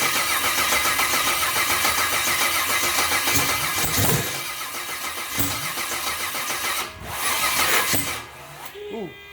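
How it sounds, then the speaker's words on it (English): LS1 5.7 V8 engine cranking, catching and starting, with sharp backfire pops and uneven revving bursts that drop and surge, heard up close while people talk and shout over it. "got a little backfire on that"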